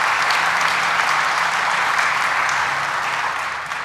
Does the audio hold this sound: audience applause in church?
yes